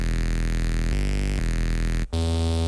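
Synthesizer playing a carbon wavetable patch with no effects, a sustained buzzy tone that shifts pitch twice and cuts out briefly near the end before resuming lower, alone without talk.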